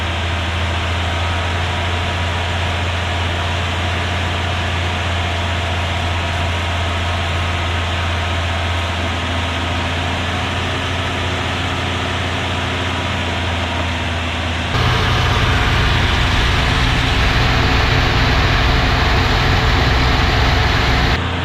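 An old-body-style Ford truck engine runs at about 2,000 RPM, a loud, steady mechanical drone with a constant hum that jumps noticeably louder and rougher for the final stretch.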